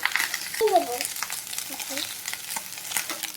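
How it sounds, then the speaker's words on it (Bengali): Fried rice being stirred and tossed in a pan, close scraping and clinking of a utensil over a gentle sizzle, with a brief faint tonal voice-like sound near the start. "আমাদের ভাত ভাজা হয়ে গেছে। এখন আমরা ভালো করে মিশিয়ে দেবো।"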